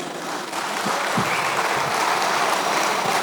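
A crowd at an inauguration-day stage show by a mentalist breaks into sustained applause for a volunteer, starting after a brief lull and holding as a thick, even wash of clapping.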